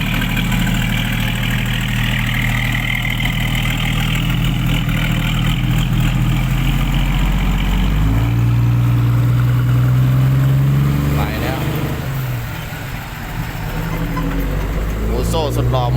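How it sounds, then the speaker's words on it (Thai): A car engine idles with a low, steady, muffled exhaust rumble, quieter with the exhaust valve closed, fairly close, while someone talks over it throughout. "ไม่ให้ท่อดังมากเนี่ยเสียงก็จะเบาลงหน่อย"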